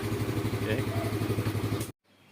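Yamaha Mio Sporty motorcycle engine idling close by with a steady throbbing pulse and rattle, cutting off abruptly near the end.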